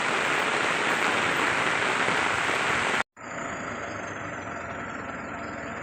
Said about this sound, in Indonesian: Hujan lebat ini guys.